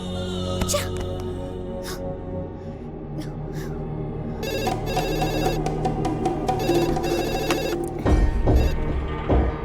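A landline telephone rings in a repeating electronic pattern, steady and moderately loud over a busy background of music and effects in a dubbed action film scene.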